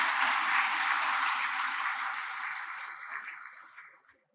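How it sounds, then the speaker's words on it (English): A Founder's Day forum audience breaks into a dense wash of applause that stays loud, then thins and fades out over about four seconds. "Please, huge round of applause."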